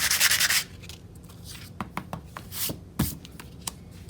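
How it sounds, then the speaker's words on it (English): Sandpaper rubbing the coating off a playing card, starting with a loud half-second burst of scratchy sanding and followed by lighter intermittent scrapes and taps, close up. "A little bit of sandpaper and take off that coating."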